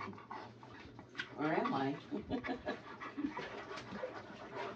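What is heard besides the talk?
dog panting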